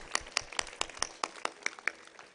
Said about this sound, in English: A cheerful applause.